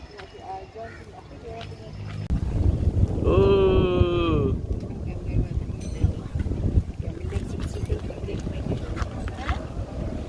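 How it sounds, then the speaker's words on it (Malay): Strong wind buffets a beachside campsite, a loud gusty roar under someone speaking, with a short tonal whine in the middle. "Angin kuat guys kat sini."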